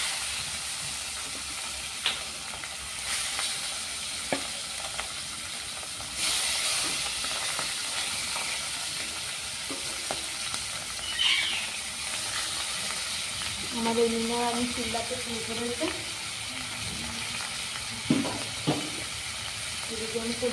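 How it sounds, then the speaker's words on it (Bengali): Fish fries in a pan with a continuous hissing sizzle that lasts the whole stretch, occasionally marked by small clatters. A person talks over it. "মাছটা ভাজা হচ্ছে।"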